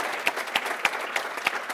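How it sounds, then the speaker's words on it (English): A conference audience gives presenters a short round of applause, faint and somewhat distant, with individual claps standing out in an even rhythm and no talking. "I would invite you to give a round of applause to these three great presenters."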